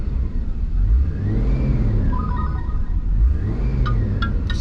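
Toyota Land Cruiser 80 Series engine revving up and settling in smooth rising and falling swells, a steady close mechanical drone with no talking.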